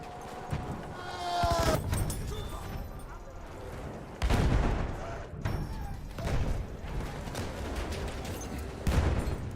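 Gunfire in a combat video game sounds as repeated bursts of shots and explosive thuds over a busy battlefield background, moderately loud, with a player's voice talking over parts of it.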